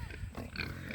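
Pigs grunt on a farm near a hose in their pen, a few short low grunts close by in a quick burst.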